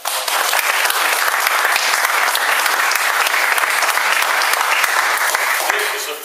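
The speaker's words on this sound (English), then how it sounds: "let's give a round of applause" A crowd claps loudly and steadily for several seconds, a dense roar of applause that tapers slightly at the end.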